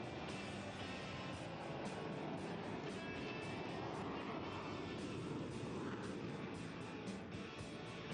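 Aircraft engine of a display plane flying inverted and pulling a max-rate turn during the Indian Air Force Day aerobatic show at Hindon; a steady, loud, broadband roar fills the whole stretch without pause, with no clear voices over it.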